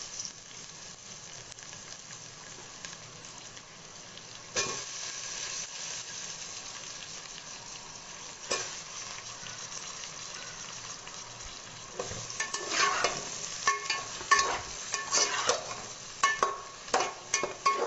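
Potatoes frying in oil in a biryani pot, a steady soft sizzle with occasional sharper crackles and clinks of stirring that grow busier and louder toward the end.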